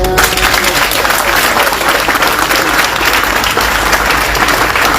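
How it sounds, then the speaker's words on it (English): A crowd of regional police personnel applauds loudly and continuously, a dense wash of clapping filling the whole stretch at a formal gathering. "it's exceptional that we need to applaud you"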